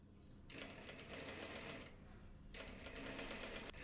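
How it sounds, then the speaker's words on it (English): An overlock sewing machine rapidly stitches skirt seams with a fast, even mechanical whir, running in two bursts with a brief slowdown between, faint and close up. "She's stitching the seams, and then she will process the edges with an overlock."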